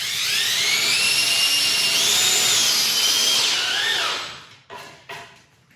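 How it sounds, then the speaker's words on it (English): A power drill drives composite deck screws straight into a Ridge Premium composite deck board without pre-drilling. The high motor whine is close and loud, runs steadily for about four seconds, slides down in pitch and cuts off, followed by a few soft clicks. "I'll go ahead and show you what it's like fastening without pre-drilling"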